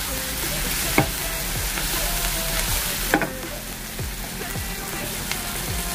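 Spice masala with Kashmiri red chilli being stirred in a hot pan, a steady sizzle with occasional scraping strokes of a spoon against the metal, close and continuous.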